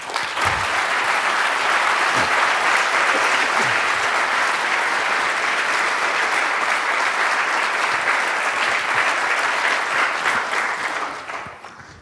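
A conference audience applauds after a talk on OpenStreetMap in Jerusalem, a loud, sustained, even wash of clapping lasting about twelve seconds before tapering off.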